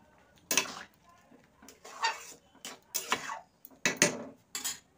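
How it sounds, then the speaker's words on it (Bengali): A lid set onto a pot of simmering mung bean and urad dal tadka on the stove: several clanking metal-on-metal knocks and rattles of cookware in uneven bursts, close by, with short quiet gaps between. "এটা একটু ফুটতে থাকুক, আমি ঢাকনা দিয়ে দেব।"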